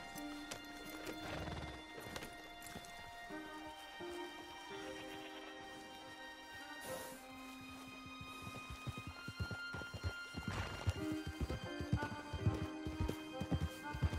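Horses gallop in Red Dead Redemption 2, rapid rhythmic hoofbeats building in loudness over sustained musical score, with a whinny and scattered rain-like patter, no voices.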